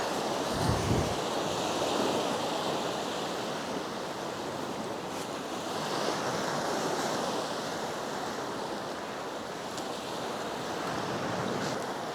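Sea waves surge and break onto a Scottish shore near Portencross in a continuous rolling wash, close by, with wind buffeting the microphone and no voices.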